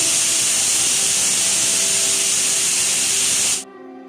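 A loud, steady high-pitched steam hiss from a pressure cooker whistle while cooking dried hyacinth beans, cutting off abruptly near the end.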